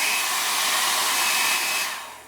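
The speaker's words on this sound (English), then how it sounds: "I'm going to heat it up with this hairdryer to get it off" A regular household hairdryer blows on high heat, a loud steady whooshing hiss with a faint whine that holds level and then starts to fade near the end.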